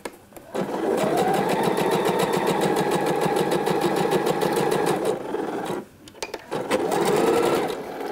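Sewing machine stitching a dress seam runs steadily at close range with a rapid, even needle rhythm, pausing briefly near the end before resuming.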